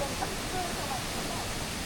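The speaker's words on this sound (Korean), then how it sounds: "이렇게 아름다운 비둘기낭 폭포도 오늘도 조금씩 뒤로 물러나고 있습니다." Bidulginang waterfall pouring over hard basalt rock, a steady, broad rushing roar that fills the scene without pause, heard alone.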